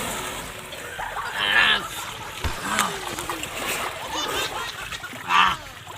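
Someone splashes into a village pond on a hot day, giving a couple of brief watery splashes and sloshes nearby, with one stronger burst near the end and faint voices around.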